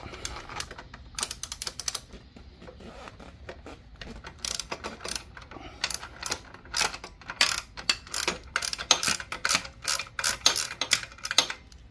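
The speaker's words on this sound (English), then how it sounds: "To remove that bolt, I'm gonna use a 19mm socket." Ratchet with a 19mm socket working a bolt loose on a Harley-Davidson Sportster during lifter replacement, giving rapid runs of sharp close clicks in repeated bursts that grow busier and louder toward the end, with no voices.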